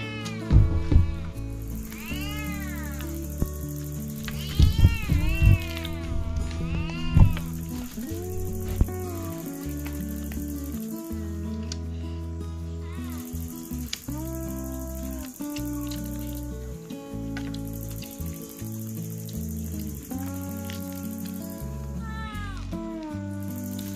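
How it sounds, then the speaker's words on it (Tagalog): A cat begs for food during a meal in the Philippine countryside, meowing again and again in rising, drawn-out cries over a steady, music-like background. "At hingi ng hingi yung pusa."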